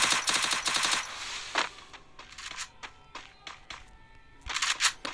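Rapid bursts of gunfire from a VSS rifle in the mobile shooter game Free Fire, several sharp automatic volleys separated by short gaps and single shots, close and punchy.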